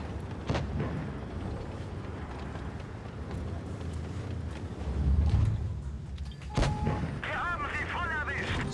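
Tank guns firing in the mobile game WoT Blitz, a Maus against several TOG II tanks, with booming shots and rumbling battle noise over a low engine drone, a sharper blast near the end.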